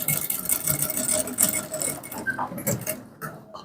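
Sewing machine stitching trouser fabric, a fast steady mechanical chatter running close and continuous before slowing and stopping near the end.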